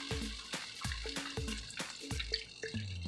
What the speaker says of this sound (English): it's time to put our vegetable stock